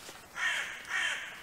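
A crow caws twice outdoors, two drawn-out harsh calls close together, moderately loud and clear against a quiet background.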